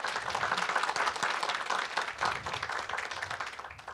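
Warm applause from a forum audience welcomes a speaker at a KOGAS natural gas forum, a continuous patter of many hands that gradually eases off.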